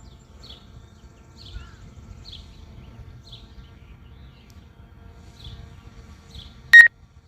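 A short, sharp electronic beep near the end, sounding after faint repeated chirps over low rumbling background noise.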